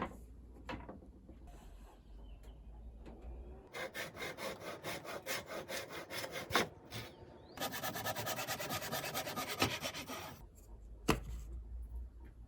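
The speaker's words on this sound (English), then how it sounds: "I cut everything using a handsaw and a jig" Handsaw cutting melamine board guided by a jig, steady rhythmic back-and-forth rasping strokes in two long runs, close and fairly quiet, with a few sharp knocks in between.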